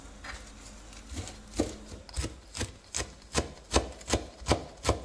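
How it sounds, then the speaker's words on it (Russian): Spinach being finely chopped with a knife on a board, a run of about a dozen sharp, evenly spaced thuds that quicken slightly, close and fairly quiet, with no talking. "Пока у меня активируются дрожжи, я нарезаю очень мелко шпинат."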